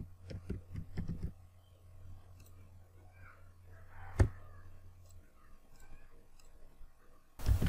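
Computer mouse clicking and keyboard typing: a quick cluster of sharp clicks at the start, then scattered faint taps and one louder click, with a brief burst of noise at the end, all fairly quiet.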